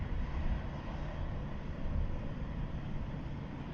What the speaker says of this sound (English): So that's our Ryanair 737-800 in from